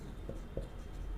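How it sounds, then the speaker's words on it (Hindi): A few soft strokes of writing on a board during a geometry lesson: two brief scratches stand out over a steady low room hum, with no talking. "तो यहाँ पर हम लिखेंगे बाय पाइथागोरस थ्योरम"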